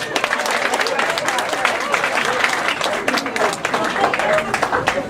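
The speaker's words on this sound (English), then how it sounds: "Give yourselves a round of applause" Applause from an audience at a cancer prevention event, a lively, fairly close round of clapping with scattered cheers and talk mixed in.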